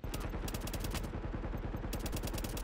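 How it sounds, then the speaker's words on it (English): Rapid gunfire from Tom Clancy's The Division in the Dark Zone, with dense overlapping shots and bursts that keep up loudly and steadily throughout, without pause. "what the heck is shooting me?"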